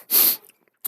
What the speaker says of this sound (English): Forgive me, I had to sneeze.